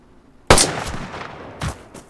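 Two sharp rifle shots in the survival video game DayZ: a loud crack with a lingering tail, then a second, softer report about a second later, over quiet ambience.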